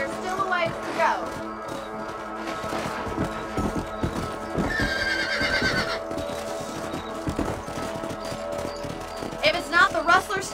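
A horse neighs and its hooves clip-clop on a ranch in the Red Dead Redemption video game, with repeated hoof strikes throughout and a fairly close whinny; other game sounds play in the background.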